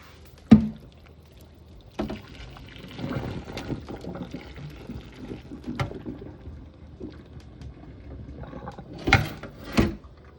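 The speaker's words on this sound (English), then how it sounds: "I'm gonna pour off this" Liquid poured off a pot of cooking ackee and corn pork with onion, peppers, scallion, tomato and thyme, with intermittent sloshing and splashing among scattered clanks and sharp knocks of the pot.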